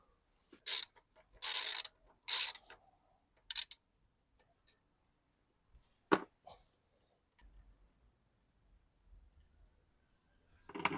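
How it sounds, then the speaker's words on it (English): Screws being backed out of the throttle body on a VW Golf, giving sparse, close metallic clicks and ticks in short bursts separated by quiet pauses. "I'm going to remove 4 screws in the throttle"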